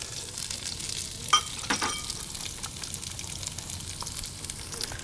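Diced white onion and celery sizzle in olive oil in a Dutch oven, a soft continuous fry with a couple of sharp clinks and scrapes from stirring near the start.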